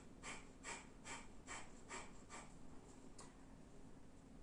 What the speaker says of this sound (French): Donc ça c'est Kapalabhati, 3 séries de 30 respirations